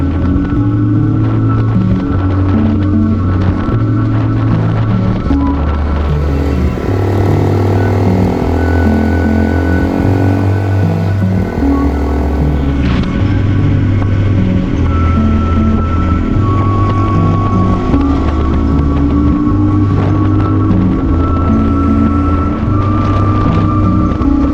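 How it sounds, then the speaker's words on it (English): A Honda CRF Rally 301 motorcycle rides a red-rock trail in Moab, Utah, its single-cylinder engine droning loud and close with rhythmic pulsing revs and gear changes, plus wind buffeting the microphone. "let me tail him on my Honda Rally"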